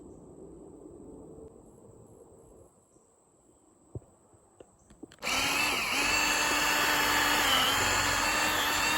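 Power drill driving a screw into a tree trunk outdoors to keep a wrapped feeder chain from slipping; after a quiet stretch with faint insects and a few clicks, the drill whirs in loudly and steadily, close by.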